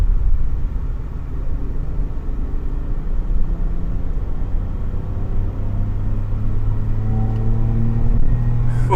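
A car engine rumbles steadily during track testing, its note rising as it revs past about 4,500 RPM toward the end; the sound is close, loud and continuous with no talk over it.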